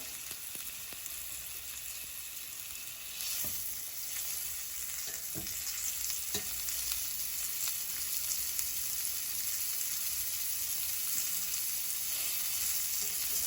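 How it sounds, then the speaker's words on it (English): Salmon fillets searing in hot oil in a pan give a steady, close sizzle and frying hiss throughout, with a few soft clicks and shifts along the way and no talking. "We just wanna sear it. We wanna get our color on there."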